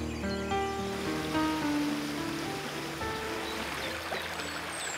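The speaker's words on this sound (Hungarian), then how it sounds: "A Garábi patakon épült fenéklépcsőnél állok." Garábi stream, a near-natural brook in the Cserhát hills, pouring over a small weir step: steady broadband rush of flowing water, close and continuous, with some low tonal hum beneath and no speech.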